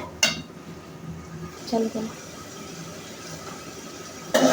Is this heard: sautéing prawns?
yes